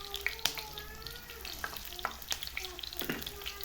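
Cumin seeds frying in hot oil for moong dal, a close, quiet crackle and sizzle with irregular popping ticks and soft stirring scrapes, with no talking.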